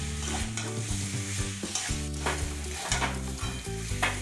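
Spice paste for a Bengali rui fish curry being stirred and fried in oil in a pan, with a steady close sizzle and repeated scraping strokes of the spoon through the whole stretch.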